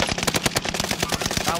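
Rapid automatic gunfire while engaging a shooter in a video game, a loud continuous burst of evenly spaced shots rattling close by for the whole moment.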